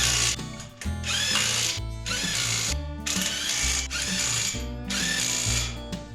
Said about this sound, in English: We're going to go ahead and tighten it down with the impact in a star pattern